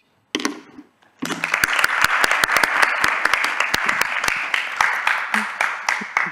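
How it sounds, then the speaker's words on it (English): A conference audience gives a presenter a round of applause, dense, even clapping from many hands that starts after a brief pause and carries on steadily, with a few louder close claps standing out. "hope you can hear the round of applause that you got from the audience"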